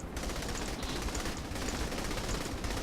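Sustained rapid gunfire in a video game, dense overlapping bursts filling the whole stretch at moderate loudness, with no clear voices.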